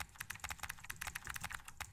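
Rapid, steady typing on a computer keyboard, with crisp key clicks in an even stream, close and clear, with no voices.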